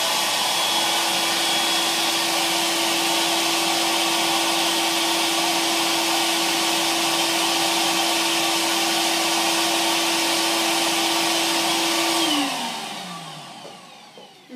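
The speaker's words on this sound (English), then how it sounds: "I'm just going to turn on the air pump" An air pump blows steadily through funnels taped together, a loud continuous whoosh with a fixed droning tone that holds for about twelve seconds, then falls in pitch and fades as the pump is switched off.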